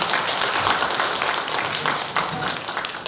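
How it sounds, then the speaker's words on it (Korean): Audience applause at a redevelopment project briefing session, dense continuous clapping from a seated crowd filling the room for about three seconds. "박수로 모시도록 하겠습니다."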